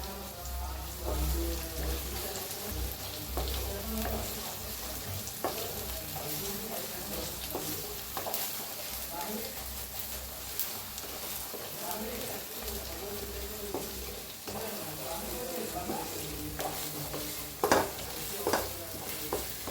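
Chole masala roasting with cumin in a pan over low gas, a steady soft sizzle under repeated scraping and stirring strokes, with a couple of louder clinks near the end.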